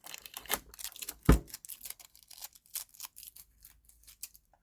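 Sticky tape peeled from a metal box holding 48 colored pencils: close, crackly tearing bursts with one sharp loud rip, then a string of shorter scratchy pulls and rustles.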